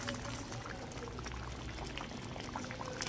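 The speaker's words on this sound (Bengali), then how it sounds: "এলাচ দিয়ে সামান্য পরিমাণে ফুটিয়ে নেব, কারণ যেহেতু নারকেলের দুধ দেওয়া আছে" Prawn malai curry with coconut milk and cardamom simmering in a pot, a steady close bubbling and gurgling that carries on evenly without pause.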